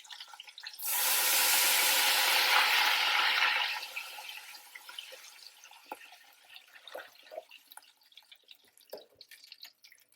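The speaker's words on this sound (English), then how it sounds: "Adding water to that hot oil," Water pours into hot oil in a crock pot for cooking oxtails, a loud rushing hiss for about three seconds that fades into faint crackling, sputtering and occasional drips.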